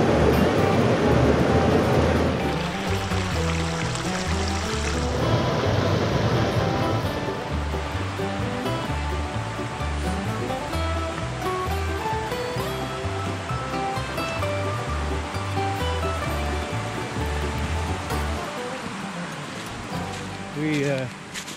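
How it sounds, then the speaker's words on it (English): A waterfall in the long-abandoned Ricker Basin near Waterbury, Vermont, rushes with a steady broadband roar throughout, while a voice talks over the flowing water. "I wanted to show you this waterfall over here"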